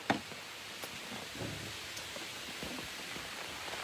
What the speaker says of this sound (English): raining heavily here